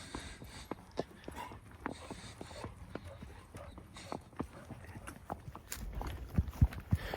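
Hooves of the horse Glade clip-clop steadily at a walk during a ride, sharp close knocks repeating in an even rhythm, with a few heavier thuds near the end.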